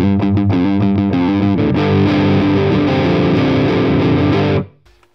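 Fender Stratocaster electric guitar played through heavy distortion, loud dense power chords with a few quick choppy stabs at first, then sustained ringing chords that cut off abruptly near the end.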